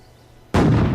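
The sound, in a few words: cannon firing a cannonball at a tree in the video game Ylands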